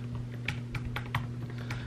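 Quick burst of typing on a computer keyboard, a rapid run of light, close key clicks over a low steady electrical hum.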